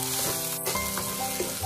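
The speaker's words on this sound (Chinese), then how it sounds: "先倒入葱姜蒜末，用小火煸炒一下" Minced scallion, ginger and garlic stir-fry over low heat in hot oil in a wok, a loud, constant sizzle with small bursts as the aromatics are moved around.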